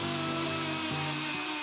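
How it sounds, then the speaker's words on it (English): A small wire wheel on a power tool scrubs detailed grooves during a farmhouse renovation, giving a steady whirring grind with a faint tonal hum that dips briefly twice, close and continuous. "this little wire wheel has helped so much with these little detailed grooves"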